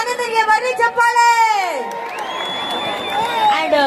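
A live Saregamapa talent show audience in Sindhanur cheers and whoops for contestant Anand, a loud crowd roar mixed with shouting children and high voices, sustained throughout with little clear clapping.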